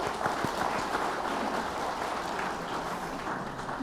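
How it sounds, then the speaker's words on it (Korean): Audience applause at a public hearing on character and etiquette education: a continuous, even wash of clapping from a seated crowd that carries on for several seconds. "다시 한번 조갑재 대표님께 박수 한번 보내드리겠습니다"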